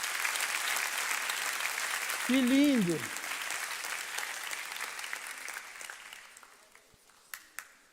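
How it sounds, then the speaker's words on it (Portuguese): A church congregation at a sermon applauds in a broad, steady wash of clapping, while someone speaks briefly over it mid-way; the clapping thins out and fades, leaving a few scattered claps near the end. "Você pode aplaudir a Jesus?"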